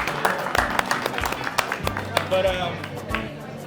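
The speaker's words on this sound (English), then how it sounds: "give him a round of applause." Brief scattered clapping from a small group of diners at a chef's table dinner in Nashville, applauding the sous chef, with a few sharp claps and some talk over the top.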